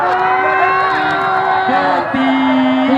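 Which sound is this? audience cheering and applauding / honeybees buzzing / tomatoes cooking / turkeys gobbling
audience cheering and applauding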